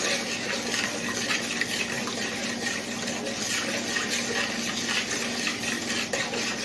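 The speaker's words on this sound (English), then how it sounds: "So I'm going to give this a stir now to dissolve the sugar and the salt." Water with sugar and salt is stirred to dissolve it, producing a steady, close swirling wash of liquid that stays constant throughout without pauses or talk.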